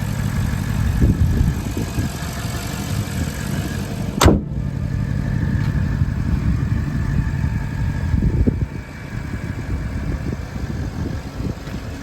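A 2025 Porsche Cayenne Coupe GTS 4-liter twin-turbo V8 idles steadily and quietly at close range, with a low rumble and a brief sharp click partway through.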